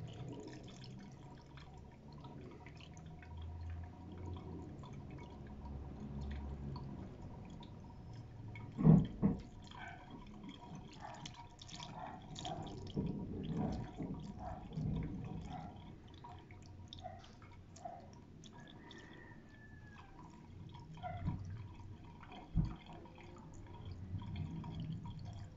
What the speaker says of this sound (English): Insert a funnel in the reservoir and slowly pour the new coolant in it, until it reaches the max line